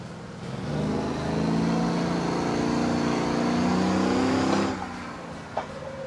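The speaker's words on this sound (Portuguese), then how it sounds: "Vamos sair já cantando pneu aqui, ó." Game car in Motor Town pulls away hard, its engine revving loud and steady with tyres squealing for about four seconds before cutting off, followed by a short knock.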